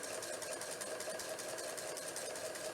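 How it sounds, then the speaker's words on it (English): A sewing machine runs steadily, stitching two pieces of fabric together for a pinwheel quilt block, its fast even mechanical chatter continuous and moderately quiet. "now I'm going to stitch the two pieces of fabric together"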